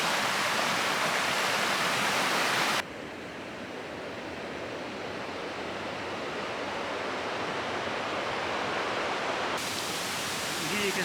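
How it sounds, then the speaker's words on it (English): A mountain river rushes steadily in the Sierra Nevada, a constant broadband roar of flowing water. It drops abruptly in level for several seconds, then jumps back to full strength. "Walking next to this river the whole time."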